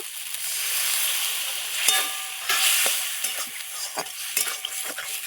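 Fig (dumur) curry being stirred in a pan with soaked fig pieces and cooked spices: steady sizzling frying with irregular scraping stirs of a spoon against the pan, close and clear, no talk.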